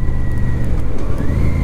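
A Royal Enfield Super Meteor 650 motorcycle engine braking in fifth gear on a test ride, a loud, close, steady low engine drone mixed with road and wind rumble, its pitch drifting slightly.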